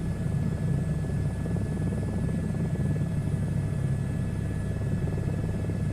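Steady rotor drone and engine whine of a helicopter cruising low, about 300 feet above the ground, in the VR flight simulator SU2 Beta; a constant, loud, even hum with no pauses and no talking.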